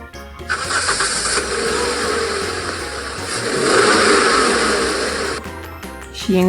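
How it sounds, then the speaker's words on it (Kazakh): A passenger car engine runs with a steady, loud rushing hiss that swells midway and then cuts off abruptly, with no talking. "Жеңіл көлік."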